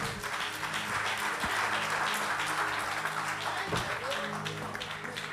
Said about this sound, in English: Come on, will you clap those hands again?